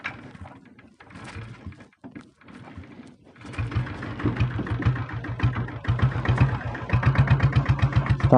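A Royal Enfield diesel Bullet motorcycle engine sputters and cranks to life, then settles into a loud, close, rhythmic thumping idle that grows steadier, with no talking.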